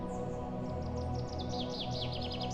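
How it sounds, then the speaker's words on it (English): Morning birdsong in a national park, quick repeated chirps in rapid sequences over a steady low background hum, moderately close and continuous. "families wake up to the chirping of birds"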